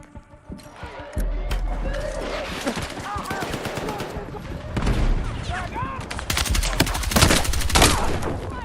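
Sniper gunfire in a video game plays out as rapid sharp cracks and bursts in irregular clusters across the clip, loud and close, with a voice talking over the action.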